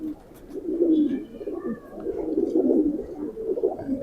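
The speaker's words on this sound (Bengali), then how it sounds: "কবুতরটা দেখেন, এই যে বাজুগুলা কালো, মাশাল্লাহ সুন্দর, লেজও সুন্দর, সাইজ অনেক বড়।" A pigeon with black wings and a large body coos close by in low, rolling phrases that repeat steadily, with faint chirps in the background.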